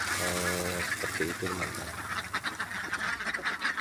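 Laying ducks on a duck farm quack loudly and repeatedly in a close flock, a burst of raspy calls early on, then softer background quacking while someone talks.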